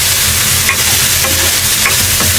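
Garlic and ground chicken sizzle loudly in hot oil while being stirred, a dense continuous frying hiss close up with faint scraping strokes.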